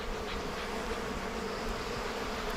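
Honey bees swarm around an opened hive during a brood inspection on a warm day, producing a dense, steady buzzing hum that fills the space with no pauses.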